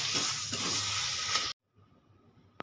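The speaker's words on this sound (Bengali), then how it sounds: "অল্প পরিমাণে গরম মশলা ভালো করে নেড়ে ছেড়ে নেবো" Garam masala being stirred into taro leaves cooked with a hilsa fish head, giving a loud, steady sizzle that cuts off abruptly partway through, followed by near silence and one brief sharp tick.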